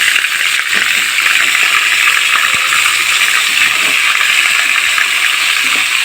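Cabbage tipped into hot oil sets off a loud, continuous hissing sizzle, dense and close, with a few faint clatters near the start and no talk.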